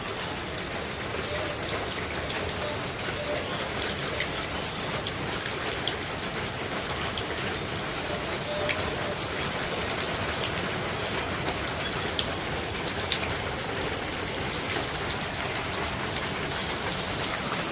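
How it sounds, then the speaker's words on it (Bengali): Heavy rain pours steadily in a village, a dense, even hiss of drops on surfaces with occasional louder taps, constant throughout. "এইদিকে এই যে দেখেন বৃষ্টির পানি"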